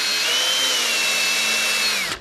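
A power drill bores a hole through a cabinet door for a handle, one steady high-pitched whine lasting about two seconds, close and loud, then cutting off abruptly.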